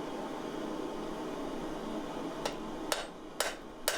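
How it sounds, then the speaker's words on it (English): Hammer blows land on forged Sanmai steel at a knife tip, three sharp metallic strikes in a steady rhythm after a stretch of background hiss. "really aggressively hammering on that Sanmai at the front of the knife"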